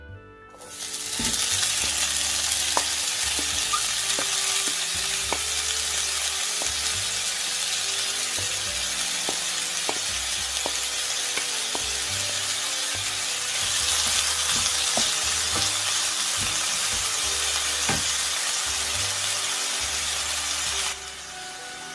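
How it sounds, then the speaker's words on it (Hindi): Finely chopped onions frying in a few teaspoons of oil over medium-high flame, a steady loud sizzle that starts abruptly and holds for about twenty seconds, with occasional stirring clinks and scrapes of the pan and no talking. "अब मैं इसमें अपने 2 अदद बारीक कटे हुए प्याज डाल रही हूँ।"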